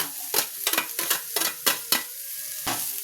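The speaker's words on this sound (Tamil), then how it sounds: "எல்லாத்தையும் போட்டு நல்லா வதக்கிடணும்" Fennel, garlic, cloves, cinnamon and bay leaf sizzle in a pan for chicken kulambu, with a spoon stirring in repeated scraping strokes over a steady frying hiss, close and without talk.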